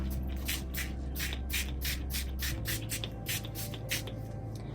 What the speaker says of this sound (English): I'm gonna shake it up and lift it really high so that I can get a big spritz onto my leaf